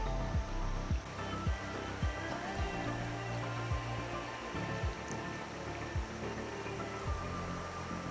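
Flowing water from a stream on a bushwhacking hike rushes in a steady, continuous wash, with rhythmic low thumps and surges recurring throughout and no voices.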